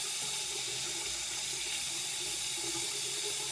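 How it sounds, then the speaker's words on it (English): Hot tap water runs steadily into a sink while vape pods are rinsed, a continuous broadband splashing hiss with no talk. "Easiest thing to do here is I just run some hot water through it."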